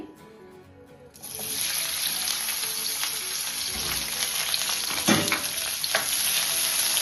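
Long-sliced onions hit hot oil in a kadai for misal masala, and a loud, sudden sizzle breaks out and keeps going as a dense, steady crackle. Occasional stirring scrapes sound up close.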